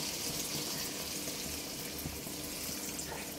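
Water pours steadily into a pot of chicken curry with an even, rushing splash that stays at one level throughout, close by and with no voices over it.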